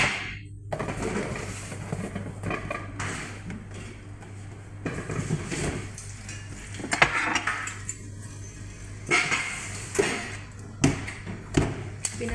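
A cooking pot is set into a cabinet in a home kitchen, giving scattered thumps, taps and light metallic clinks over a steady low hum, with a few sharper knocks toward the end.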